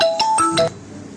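A short electronic ringtone plays a few bright tones in quick succession, then stops abruptly, leaving a quiet background.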